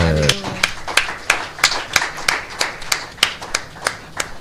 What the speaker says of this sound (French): Acclame encore El Shaddai.